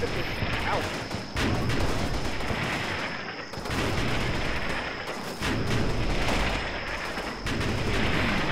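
A mortar barrage in the Combat Mission wargame, with dense, loud rolling blasts and rumbling explosions overlapping continuously, a few brief dips between bursts.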